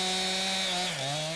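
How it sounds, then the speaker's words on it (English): A chainsaw holds a steady high revving whine and then dips slightly in pitch, cutting a fallen tree during cleanup after a tornado. "Chainsaws revving"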